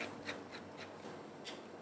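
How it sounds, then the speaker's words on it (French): Twists of a pepper mill grind pepper while a chef seasons a fish tartare: several short, quiet, crunchy rasps in an uneven rhythm, close by, with no talking. "Poivre du moulin."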